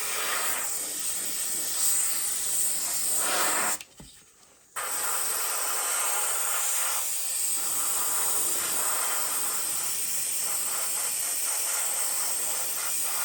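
An airbrush sprays weathering paint over a model in a loud, steady close hiss, broken by one short pause before the spray resumes and runs on continuously.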